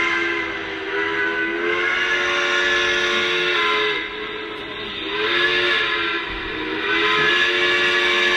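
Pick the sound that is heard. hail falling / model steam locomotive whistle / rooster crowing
model steam locomotive whistle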